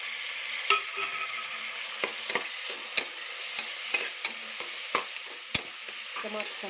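Chopped tomatoes frying in a pan with turmeric for palak pulao, a soft continuous sizzle punctuated by regular sharp utensil clicks and scrapes from stirring, close and without talk.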